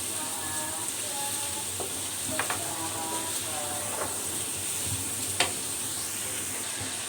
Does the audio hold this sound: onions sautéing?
yes